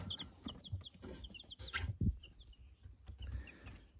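High, thin cheeping of mixed village chicken chicks in quick little bursts, with soft clucking and rustling underneath, fairly close and quiet.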